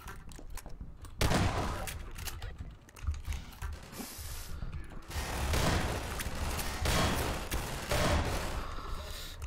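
Rapid bursts of Half-Life 2 gunfire and clattering mechanical clicks fill the clip, with loud shots punctuating a busy, dense mix throughout.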